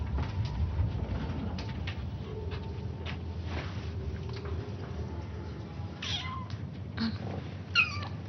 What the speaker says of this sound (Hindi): बिल्ली के बच्चे